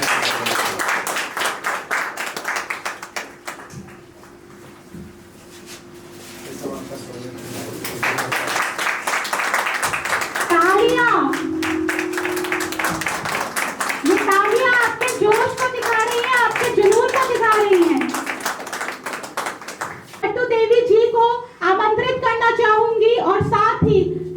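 A crowd at a company pre-launch event claps hands in rhythmic, sustained applause, loud and near, while voices talk and music with singing plays alongside.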